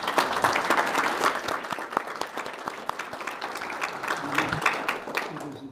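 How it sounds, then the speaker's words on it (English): An audience at a law school symposium applauds the program organizers, a moderately loud round of clapping that fades gradually over several seconds, with a voice faintly present. "I think we owe them a round of applause."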